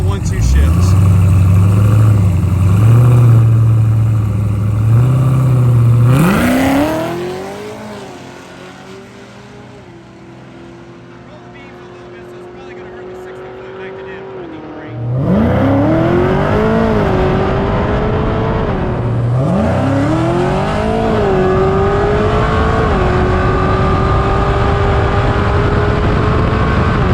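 A Cadillac CTS-V makes a drag racing pass: a loud engine roars and climbs in pitch through several gear shifts, with a brief lull before hard acceleration resumes and rises again twice.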